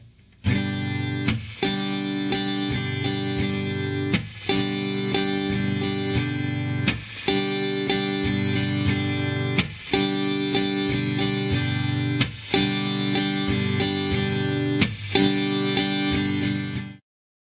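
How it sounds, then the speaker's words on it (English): A steadily strummed acoustic guitar, distorted-sounding, with sharp percussive muted chucks cutting in at regular intervals, played slowly and evenly, with no talking. "especially on acoustic guitar, that you get good at this chucking."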